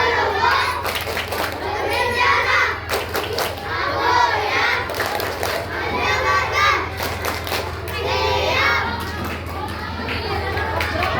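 A group of schoolchildren performs a rhythmic concentration clapping routine, with repeated sharp clap bursts in patterned sequences mixed with children's chanting and voices in a lively room.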